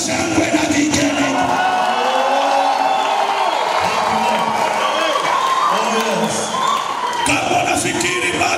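A church congregation cheers and ululates in praise, a loud unbroken wash of shouting, whooping voices filling the space throughout.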